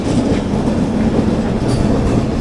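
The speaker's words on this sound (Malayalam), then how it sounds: "ഇത് കാച്ചേഗുഡ യശ്വന്ത്പൂർ വന്ദേ ഭാരത് എക്സ്പ്രസ് ആണ്." The Kacheguda–Yesvantpur Vande Bharat Express rushes past close by, a loud continuous rumble of rolling wheels with rapid clattering over rail joints, steady and unbroken.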